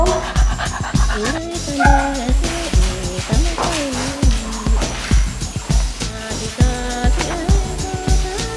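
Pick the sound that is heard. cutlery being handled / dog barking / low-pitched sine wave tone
dog barking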